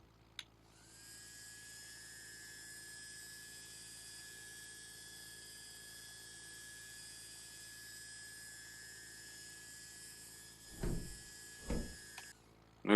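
Landing gear of a P-40 fighter cycling in the A2A flight simulator, a steady mechanical whine with a high tone holding for about eleven seconds, then a few short thumps and clunks as the movement finishes.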